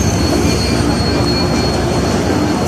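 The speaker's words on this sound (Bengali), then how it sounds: "অনেক বড় ট্রেন যাচ্ছে দেখেন, অসাধারণ।" Long Padma Chitteshwari passenger train rolling past below a footbridge in Dhaka, a steady loud roar of wheels on rails with faint squealing, continuous and close throughout.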